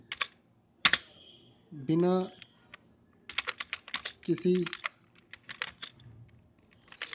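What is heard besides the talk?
typing on a computer keyboard in Hindi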